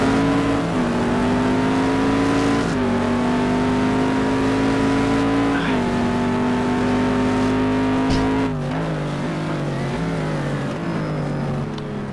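GT2 race cars at Spa, with a Porsche spinning out, their engines droning steadily and loud, pitch shifting as revs rise and fall, with no talk over it.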